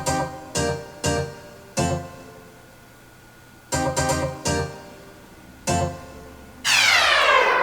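Xpand!2 Guitars Double 12 patch in Pro Tools, twangy twelve-string style plucked notes struck in short separate bursts with gaps between, then a final chord ringing out with a bright shimmering sweep, alone and fairly close.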